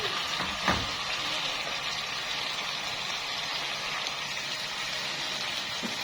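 Onions fry and soften in a pan for a street-style liver dish, giving an even, continuous sizzle like light rain, with one brief knock near the start.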